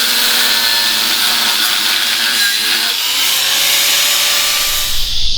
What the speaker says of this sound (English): cutting up through it with a cutting disc is much quicker